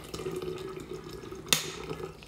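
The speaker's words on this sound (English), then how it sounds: "So now we're running it under cold water because it stops the brewing process." Cold tap water runs steadily over a hot IKEA moka pot, a close, continuous splashing stream with a sharp clink of metal partway through.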